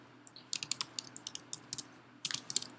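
Quick, light key clicks from typing HTML on a computer keyboard come in an uneven run of taps, with a short pause before a final fast burst; close and quiet, with no talking.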